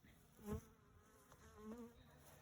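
Honey bees buzz close around a beekeeper during hive work, two distinct fly-by drones swelling and fading over a quiet background.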